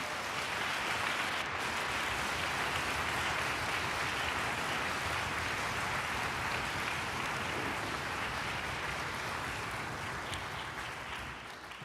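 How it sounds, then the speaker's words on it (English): A concert audience at a Duke University String School orchestra performance applauds steadily, a dense, even wash of clapping that holds for several seconds and thins slightly at the end. "all of you deserve a great round of applause for your efforts this year"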